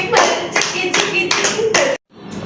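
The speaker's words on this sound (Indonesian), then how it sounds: "Tepuk berkali-kali." A Grade 4 class clapping hands in quick, dense bursts, several loud rounds of rapid claps, close and bright, breaking off in sudden silence before a brief resumption.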